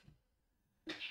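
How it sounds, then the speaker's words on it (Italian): A sharp, loud sneeze bursts out near the end after a near-silent stretch, set against faint room hush during a live stream. "Tranquilla, puoi sternutire quanto ti... pare."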